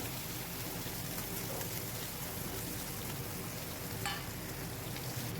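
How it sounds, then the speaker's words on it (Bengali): A steady, even sizzle of tengra catfish frying in hot oil, a dense crackling hiss that holds constant throughout with no voices. "ট্যাংরা মাছগুলো ভালো করে ভেজে নেবো লাল লাল করে"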